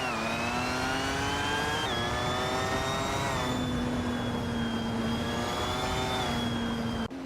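Racing cars in a video game, including a 2017 Porsche 911 RSR, howl continuously with steady high engine whine and shifting pitch through gear changes, loud and close, no talk.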